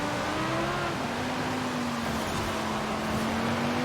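Steady engine drone from a car racing in Forza Horizon 5, close and continuous with a slowly shifting pitch, no talking over it.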